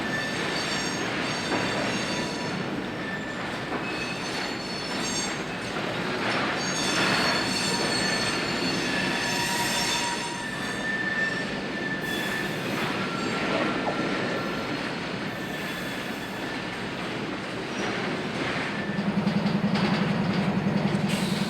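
A CSX freight train on the B&OCT line, an urban last-mile railroad, rolls slowly while its wheels squeal steadily over a constant rumble, with no voices.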